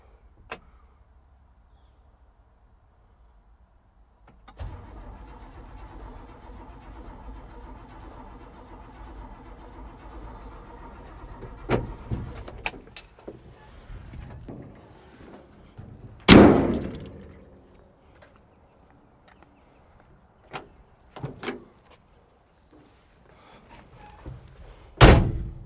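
A 1971 Chevrolet C10 short-bed utility truck that won't start, heard as a long stretch of starter cranking without catching, broken by door slams, clanks and other loud knocks around the truck, with no speech.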